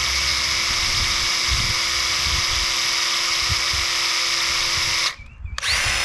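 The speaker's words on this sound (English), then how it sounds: "Getting the material sucked into the pump." Graco Ultra handheld airless sprayer priming and sucking paint into its pump, a loud steady high-pitched motor whine running continuously before cutting off briefly near the end and restarting.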